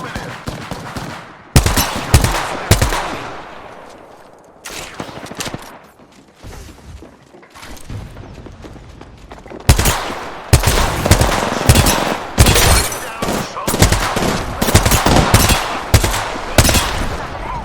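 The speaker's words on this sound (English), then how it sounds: "Listen up, I'm getting shot at." Gunfire in the Apex Legends video game, loud bursts of automatic fire that break off into a fading echo, come back in scattered shots, then a long, sustained barrage of rapid bursts closes out the stretch.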